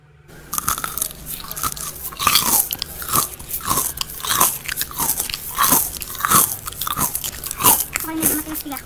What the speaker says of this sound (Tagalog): Yan yung chicharon, malutong.